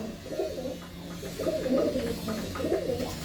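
Pigeons coo steadily in a loft, several birds overlapping in soft, repeated throaty calls that swell and fade close by, with no talk over them.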